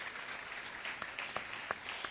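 Audience applause at a music festival in Caltanissetta, Italy: a moderate crowd claps steadily, heard from some distance, with individual sharper claps standing out.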